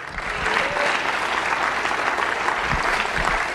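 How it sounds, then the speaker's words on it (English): Congregation clapping and shouting at a church conference service in Houston, a dense, steady roar of applause with cheers that carries evenly from start to finish. "one more time, clap those hands and shout unto the Most High God"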